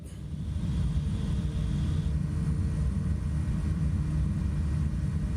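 Steady droning airplane engine in flight in Microsoft Flight Simulator 2024 near Lord Howe Island, Australia, a constant loud low hum with no voices.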